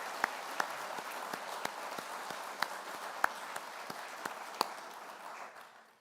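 Applause from an audience at the 2024 U.S. Naval Institute Annual Meeting, a moderate, even wash of clapping with a few louder individual claps, fading out at the end.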